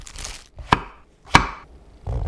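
A knife cuts king oyster mushrooms into 0.5 cm thick slices, two crisp, distinct chops landing on a cutting board close by, with soft handling noise between them.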